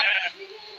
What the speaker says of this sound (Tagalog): Ang daming tupa dito.